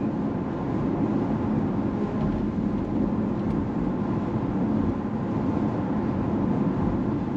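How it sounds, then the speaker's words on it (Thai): Inside the cabin of an Audi e-tron GT electric car cruising at 110 km/h, a steady, even rumble of road and wind noise continues throughout with no voices. "เสียงภายในห้องโดยสารในของจริงเนี่ยถือว่าเงียบมากเลยนะครับจะมีเสียงลมเข้ามานะครับ"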